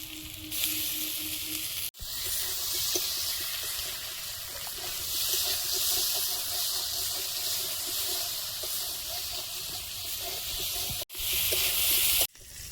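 Ginger paste frying with potatoes in a pan, a bright steady sizzle that carries on nearly unbroken for several seconds, with soft stirring scrapes and brief cuts; no talk.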